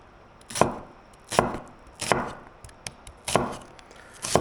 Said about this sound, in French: Moi, je les coupe fin, comme ça ils vont cuire vite.